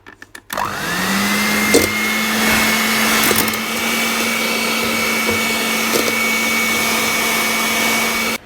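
An electric mixer creams butter for a carrot cake cream cheese frosting, a loud, steady high whine that spins up after a few bumps and runs evenly to the end.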